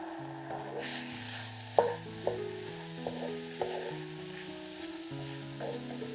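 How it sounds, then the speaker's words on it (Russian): Mushrooms fry over high heat in a hot, dry pan with a steady sizzle, while a utensil scrapes and knocks against the pan at irregular intervals as they are stirred. Background music plays underneath. "Готовим их на большом огне, периодически перемешивая."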